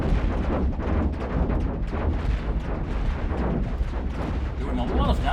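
Ship weapons in the Cosmoteer space game firing continuously on an enemy republic cruiser, a dense, loud barrage of booming artillery-like shots and impacts with no pauses.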